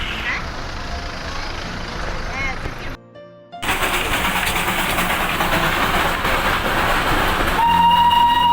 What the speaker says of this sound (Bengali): কিছুক্ষণ পরপর কিন্তু টয় ট্রেন যাচ্ছিল একের পর এক।